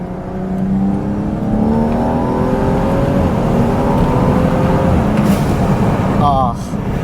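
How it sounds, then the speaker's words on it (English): A Stage 2 BMW M135i accelerating hard from inside the cabin, engine note rising steadily through the revs for several seconds, then a sharp hissing blow-off valve release as the throttle lifts, with a voice speaking over it. "Oh, the blow-off valve."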